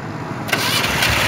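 A diesel vehicle engine cranks and catches, then settles into a steady, close, fairly loud broadband running noise.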